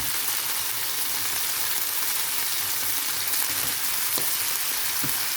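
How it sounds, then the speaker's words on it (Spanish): Food sizzles steadily in a hot pan for a Ramadan iftar dish, a continuous bright frying hiss with a few faint clinks, no talking. "Y freímos todo muy bien"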